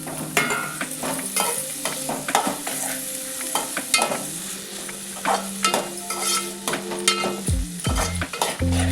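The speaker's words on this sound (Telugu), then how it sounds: "తర్వాత దొండకాయ తురిమేది దీంట్లో వేసుకుందాం." Grated ivy gourd (dondakaya) is tossed and stirred in a hot oiled pan, giving a steady sizzle broken by repeated scraping strokes of a spoon against the pan, close and clear with no talking.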